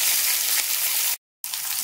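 Chopped onions frying in hot oil in a kadai, a loud continuous sizzle broken by one brief silence before it resumes.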